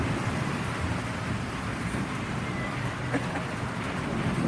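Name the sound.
heavy rain with hail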